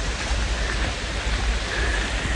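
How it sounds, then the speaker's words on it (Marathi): Heavy monsoon rain pours down on a trek near a waterfall, a dense, loud, unbroken roar of falling water close to the listener with no other sounds. "बेकार पाऊस आहे गाइस, इतका पाऊस आहे ना."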